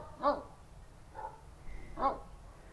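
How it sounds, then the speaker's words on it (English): Dogs barking in a suburban neighborhood backyard, two clear barks about two seconds apart with a softer yelp between, moderately distant over quiet outdoor background. "I think we have too many dogs in the neighborhood."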